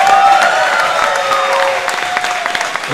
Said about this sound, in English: a rousing round of applause for our ring warriors